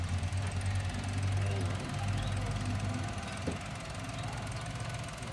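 Mazda Flair with a turbo R06A engine idling, a low steady rumbling hum with a faint rhythmic pulse, heard nearby while someone talks over it.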